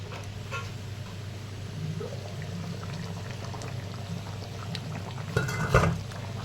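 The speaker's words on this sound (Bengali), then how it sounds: "এখন ঢাকা দিয়ে দু পাঁচ মিনিট ফুটতে দেবো" A covered pot of jackfruit seed curry simmers and bubbles softly, a faint, steady bubbling hiss under a low background hum, with a louder clatter near the end.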